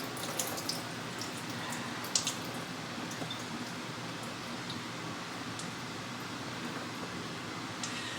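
Water drains and trickles from a batch of diced, skinned tomatoes, a soft, faint, steady dribble with a few small drips and wet squishes, no voices.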